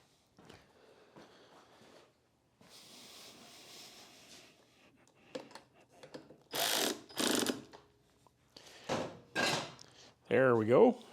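A bolt on a Sym Symba being tightened by hand, with quiet ratchet clicks and soft metallic handling, then several louder close bursts of tool noise, fairly faint overall.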